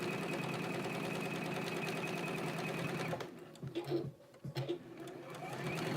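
A sewing machine stitches a seam with a steady, fast mechanical whir for about three seconds, then stops, followed by light handling noises and a faint motor hum returning.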